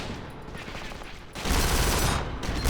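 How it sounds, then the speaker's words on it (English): Blind-fire gunshots burst out in the video game Kane and Lynch 2, a loud rapid fusillade that swells sharply halfway through and keeps rattling to the end. "Whoa, this has got really good blind fire."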